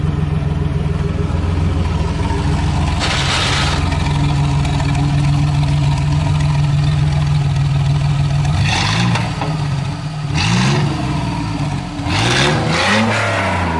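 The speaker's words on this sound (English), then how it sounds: "that sounds great for a V6" A V6 car engine runs steadily at a low, even idle, then gets several sharp revs toward the end, loud and close.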